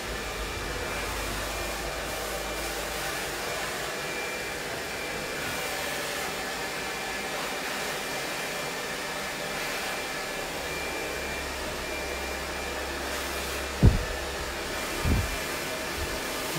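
A Taiff Fox hair dryer runs steadily at a salon during a short haircut, giving a continuous airy whir that stays even for the whole stretch, broken only by a couple of brief knocks near the end.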